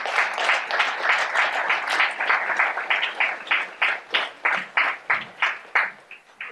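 An audience at a regional Défi OSEntreprendre entrepreneurship awards gala in Gaspésie–Îles-de-la-Madeleine applauds warmly. The clapping is dense at first, then settles into a steady rhythmic beat toward the end.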